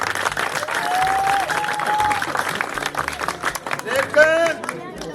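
An audience applauds at a Punjabi celebration with dhol dancing. Steady clapping rolls on for five seconds with crowd murmur beneath, and a few whistle-like tones rise over it.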